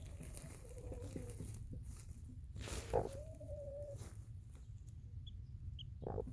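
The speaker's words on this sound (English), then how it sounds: "You can hear her peeping." Faint, thin peeps of a newly hatching chick under a hen, a few short calls and one drawn-out cheep, over a quiet background hiss.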